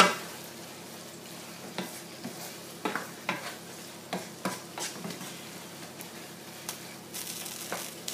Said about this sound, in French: mes oignons en train de cuire là